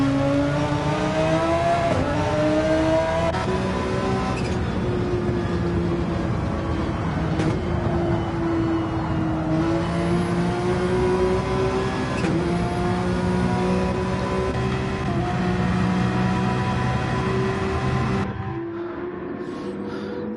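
A Porsche race car in a racing game at Goodwood, its engine droning loud and steady as it climbs and holds through the gears, other cars faintly behind, then easing off abruptly near the end.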